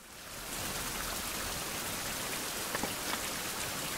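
Steady rain pours down in a survival video game, a dense unbroken hiss of drops starting after a brief quiet moment and holding at an even, close level with a few slightly louder spatters.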